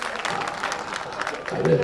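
An audience gives a short burst of applause, a dense patter of clapping heard under a person speaking.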